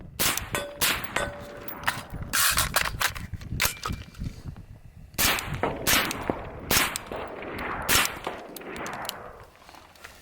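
A rifle fitted with a Surefire Socom RC2 suppressor fires a rapid string of sharp, cracking shots. Metallic clangs and clinks from ejected shells and steel targets ring in between at close range.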